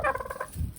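A turkey gobbles once up close, a rapid warbling rattle of short pulses, followed by a brief low rustle.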